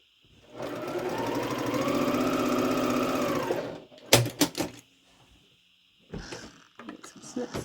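A home sewing machine stitches quilt fabric pieces together in one steady, close, humming run of about three seconds, followed by a few sharp clunks and clicks of handling and faint later rustles.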